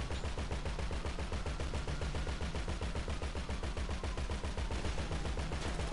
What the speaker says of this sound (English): Double barrel shotgun.